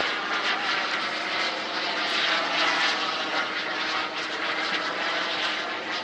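Jet-powered model aircraft flying at an outdoor jet meet, a continuous loud roaring whine that holds steady throughout, with voices of spectators talking under it.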